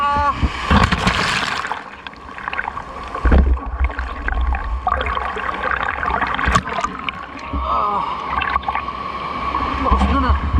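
Strong ocean waves rush and splash at a beach, surging loudly and churning up close while voices shout and talk over the water.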